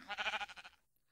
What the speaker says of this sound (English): Any more sheep? I need 2 more.